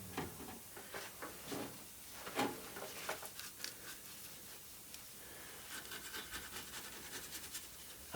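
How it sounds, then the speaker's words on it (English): A brush scrubbing seam sealer into welded seams on an MGB GT body during restoration, soft repeated rubbing and scratching strokes, close and fairly quiet, in a steady irregular rhythm without talk. "I'm absolutely scrubbing it into these welds, putting plenty on"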